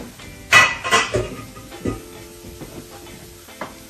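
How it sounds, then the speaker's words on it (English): Onions and peppers dropping into hot olive oil in a pan, with a burst of sizzling and a few utensil clanks and scrapes, then quieter frying and occasional stirring noises. "we're going to go ahead and add our onions and our peppers and let those saute"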